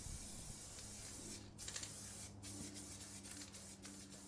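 A spray paint can hisses in short bursts, quiet broadband spraying with brief gaps between pulses and faint background hum.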